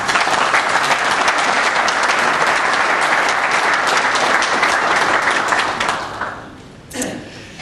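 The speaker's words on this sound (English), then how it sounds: "Give them a round of applause." Audience at a county business roundtable anniversary event applauding guests, a full sustained round of clapping from a large room that tapers off near the end.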